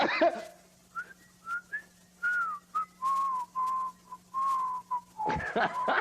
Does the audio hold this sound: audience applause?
no